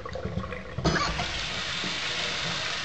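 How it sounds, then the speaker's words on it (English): Old water dumped out of a hookah base during cleaning, a sudden broadband splash and gush at about one second that keeps pouring steadily to the end, close and fairly loud. "I'm just going to dump out the old water."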